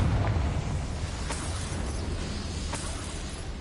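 A fiery burst from the Confringo spell in the video game Hogwarts Legacy: a heavy, rumbling blast with crackling debris and a couple of faint sharp pops, fading gradually.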